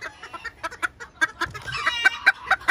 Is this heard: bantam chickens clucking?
yes